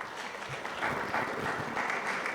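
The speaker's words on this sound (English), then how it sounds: "shall we give him a clap as he comes up here?" Audience applause at a panel event on gold trading and export formalization, steady dense clapping from a seated crowd throughout, fairly distant and even, swelling slightly in the second half.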